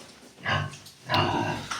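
Piglets grunt in a farm pen, two short bursts of snuffling, squealing grunts close to the microphone separated by a brief pause.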